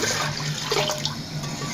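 Chicken bone stock (yakhni) is poured in a steady stream into a pan of white pasta sauce. The liquid gushes and splashes continuously at close range, with no talking.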